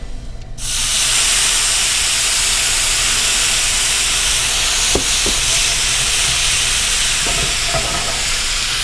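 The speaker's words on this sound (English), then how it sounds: "So we're going to deglaze with some white wine." White wine poured into a hot pan off the heat bursts into a loud, sustained steamy hiss and sizzle that starts abruptly and holds steady, close by, with a few faint clinks and no talking.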